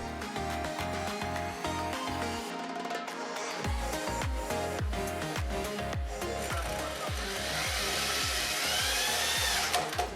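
A power drill drives screws into wooden planks for a small balcony cat enclosure, with repeated whirring pulses and a rising pitch in a close, continuous run and no talk.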